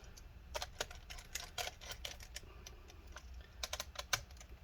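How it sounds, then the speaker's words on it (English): Screws going back into a Dell Inspiron laptop, a close, quiet series of small clicks and ticks of the screwdriver and screws against the chassis in irregular bursts, faint overall, with no talking. "then we're just going to put these screws back in."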